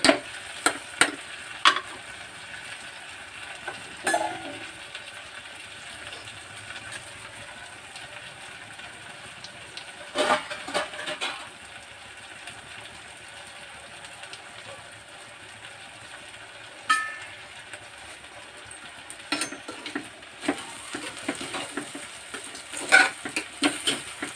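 Food frying in ghee in a pan, with intermittent scraping and stirring strokes over a low steady sizzle; the spoon clatters in short clustered bursts, fairly close, with no talk.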